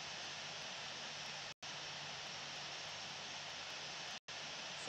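An Airbus A380 taxiing in the Infinite Flight game gives a steady, even jet engine hum with a constant airy roar, cut by two brief silent gaps.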